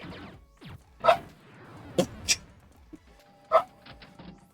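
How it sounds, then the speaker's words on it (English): A dog barks a few sharp times indoors, the barks spaced out with quieter sounds between them, fairly close and moderately loud. "What's he barking at?"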